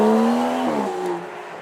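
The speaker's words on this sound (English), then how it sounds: "Lovely howl comes on the end. You can hear the overrun as well, and those turbos whistling away up front." An Aston Martin supercar's engine howls loudly up close at a supercar weekend, its pitch rising and then dropping off into overrun as the turbos whistle faintly above it.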